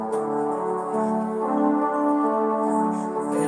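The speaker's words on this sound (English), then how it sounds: "If you have the brass on its own, it sounds like this." Sustained organ chord played on the brass stop alone, a reedy, buzzy tone with rich harmonics held steadily for several seconds at even loudness, with the notes shifting slightly midway.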